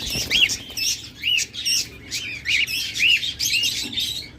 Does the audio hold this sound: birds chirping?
yes